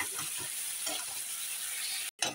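Sim (flat bean) pathuri frying on low heat in a covered pan gives a close, steady, soft crackling sizzle with faint bubbling, cut off by a brief silent break just before the end.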